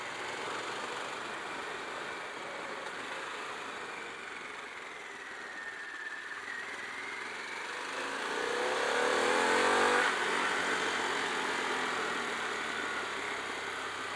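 A Harley-Davidson Pan America Special motorcycle engine pulls and swells in pitch as it accelerates on a winding road, heard under constant loud wind rush throughout.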